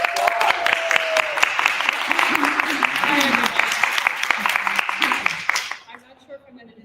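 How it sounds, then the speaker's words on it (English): A crowd at an enlightenment expo gives a round of applause, dense clapping mixed with scattered voices and cheers that fades out near the end, leaving quiet talk. "And let us bring a round of applause."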